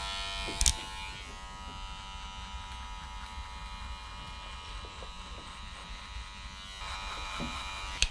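Hair clippers with the lever open cut a skin fade, a steady electric buzz running throughout with faint clicks at the start and end.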